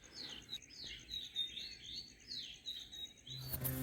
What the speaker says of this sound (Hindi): देखिए पंछियों की चहचहाट